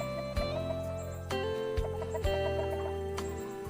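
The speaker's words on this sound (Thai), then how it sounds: "ไก่ฟักอันนี้" Chickens cluck at a Thai-Lao rural home, with short repeated clucks and calls over a steady low background hum, fairly close and clear, no talking.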